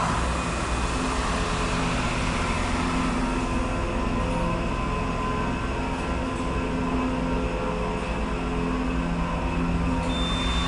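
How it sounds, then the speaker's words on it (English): An Otis hydraulic elevator motor at Suburban Station in Philadelphia runs with a loud, unbroken drone and a steady hum that stays at the same level throughout. "I believe it is an Otis, but I'm not sure. Listen to this motor."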